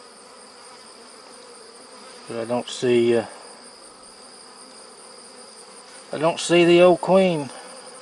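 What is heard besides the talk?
honey bees buzzing in combined nucleus colonies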